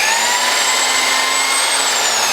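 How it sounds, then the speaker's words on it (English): A drill bores a hole lengthwise through a wooden lure plug, a loud, steady high-pitched whine with a constant motor tone and no breaks over the whole stretch. "I can see the drill bit coming through the hook holes"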